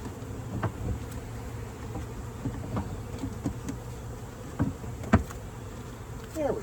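Honeybees buzz steadily around a newly installed hive in a new bee yard, a dense droning hum with occasional louder passes of single bees flying close by.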